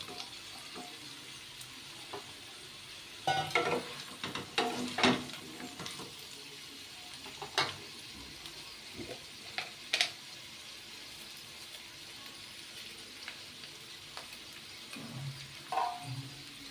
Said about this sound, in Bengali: এরপর কেটে রাখা ঝিঙেগুলো দিয়ে দিই।